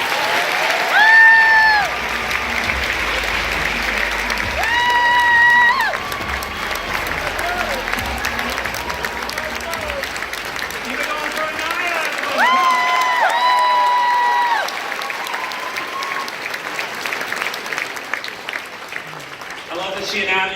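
At a charity dinner, a large audience applauds and cheers loudly for a sustained stretch, with whoops and shouts rising in bursts over the dense clapping.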